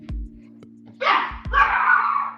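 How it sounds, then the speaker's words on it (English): A small dog yaps in two short, sharp bursts somewhat in the background, with a few thumps and a steady electrical hum underneath. "That's my little dog back there."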